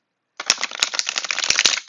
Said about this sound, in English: Oh, they shuffle nice. This is not a bad shuffle at all.